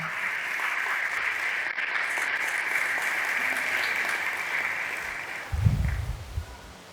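A church congregation applauds at length during an Urdu-Hindi sermon, a steady dense wash of clapping that holds evenly for about five seconds before tapering off beneath a low rumble.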